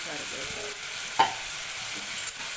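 Ginger garlic paste fries in a pan for a tomato curry, a soft, close sizzle with a sharp spoon clink against metal midway and light stirring scrapes, no one speaking.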